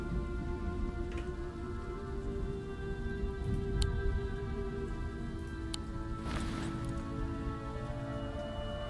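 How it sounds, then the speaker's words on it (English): Steady rain in the video game Siege Survival: Gloria Victis patters continuously, a dense hiss with a low rumble beneath it and a few brighter drip-like ticks, no voices. "because you know, it's raining"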